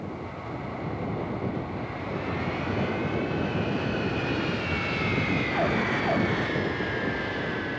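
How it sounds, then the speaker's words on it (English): An American Airlines jet airliner roars steadily as it touches down on the runway, a loud continuous engine rumble with a rising whine, heard close with some wind noise. "The local controller guides American Flight 278 to a safe touchdown."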